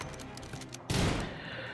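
Shotgun fire in RimWorld, a sudden loud burst of gunfire near the middle that lingers briefly, amid a busy battle backdrop with smaller scattered shots before it.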